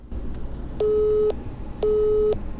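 A telephone busy signal heard after dialing a cell phone: two evenly spaced, steady beep tones, each about half a second long, alone over a faint line hiss.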